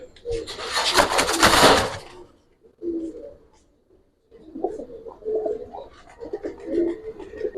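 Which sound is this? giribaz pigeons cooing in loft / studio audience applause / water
giribaz pigeons cooing in loft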